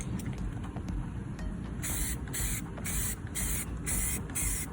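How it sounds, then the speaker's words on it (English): Short hissing bursts of aerosol spray paint coat a pumpkin, five or six quick close sprays in a row over a steady background hiss. "Whenever I'm spray painting, I try to do real quick, short motions."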